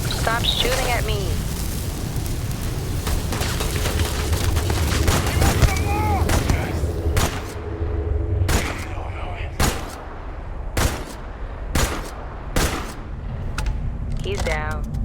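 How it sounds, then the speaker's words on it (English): Sci-fi gunfire in Starfield: rapid bursts and heavy booming shots fire repeatedly, with sharp separate cracks spaced out toward the end, loud over a rumbling combat bed. "Stop shooting at me."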